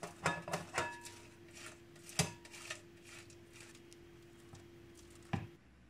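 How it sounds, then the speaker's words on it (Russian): Two boiled eggs rubbed across a fine kitchen grater, giving a few scattered scraping rasps and soft taps over a quiet steady hum, with no voices. "Еще понадобится 2 вареных яйца, которые натираем на мелкой терке"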